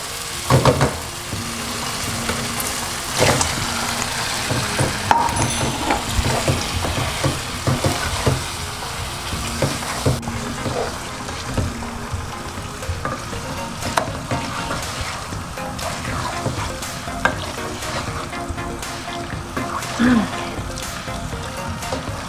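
Olive oil bubbles and sizzles steadily as chicken fries in a pan for curry, with stirring scrapes and clatter, loud and close throughout.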